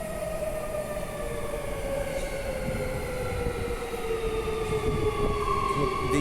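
An Airport Line metro train pulls into the station with a sustained, loud rolling rumble and steady rising and falling whine tones from the traction motors, running continuously without talk.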